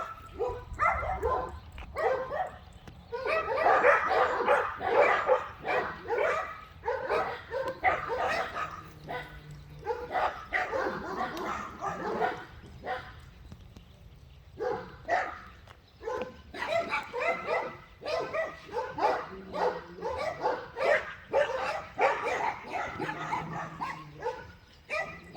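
A dog barks repeatedly in uneven bursts, mixed with yips and whimpers, close and fairly loud, with a little faint talking in the background.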